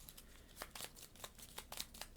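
Cards from a board game deck being shuffled, a soft run of quick papery riffles and flicks with a few sharper snaps, close and fairly quiet, with no voices.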